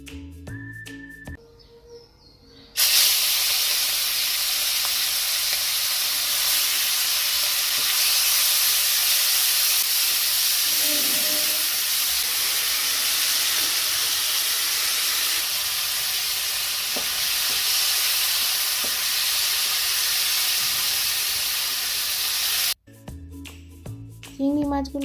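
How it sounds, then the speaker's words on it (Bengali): Shrimp frying in hot oil in a pan, a loud, steady hiss and crackle that starts abruptly and holds for about twenty seconds, with brief quieter stretches before and after. "ভালো করে মেখে নিয়ে আমি তেলের মধ্যে চিংড়ি মাছগুলোকে ভেজে নেব।"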